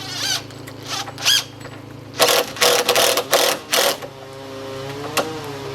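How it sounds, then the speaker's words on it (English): A power driver sets a screw into wooden deck planking in several short, loud whirring bursts, each a second or less, with quieter pauses and ambient noise between them. "So we'll just put one screw in here, and then we'll go get the other end straight."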